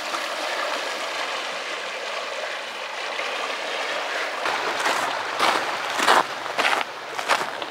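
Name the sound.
floodwater stream flowing across a road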